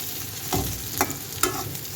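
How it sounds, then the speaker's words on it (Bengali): Onion frying in a pan for a spinach and fish ghonto, a continuous oily sizzle broken by three distinct scraping stirs of a spatula, close and clear with no speech. "পেঁয়াজটা ভেজে নিই।"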